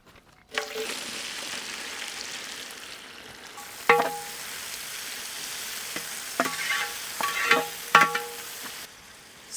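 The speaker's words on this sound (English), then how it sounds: "Saute until onions become brownish color." Onions sizzle steadily in pure ghee and oil in a pan, with a constant frying hiss broken by a few louder clinks and scrapes of a spoon stirring.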